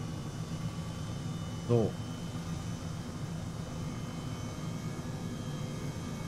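H135 helicopter climbing in Microsoft Flight Simulator 2020, a steady droning rotor and turbine hum running evenly throughout at moderate level, with a brief spoken word near the start.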